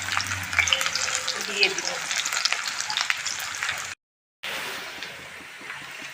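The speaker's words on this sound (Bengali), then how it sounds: "পেঁয়াজগুলো ভাজা হয়ে গেছে" Onions with panch phoron and dried and green chilies fry in oil, a bright crackling sizzle up close, briefly cut off, then a softer hiss as a voice speaks.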